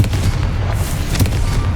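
A Confringo fire spell explodes in Hogwarts Legacy, a dense booming blast with deep rumble that lasts the whole moment, loud and close, with no voices over it.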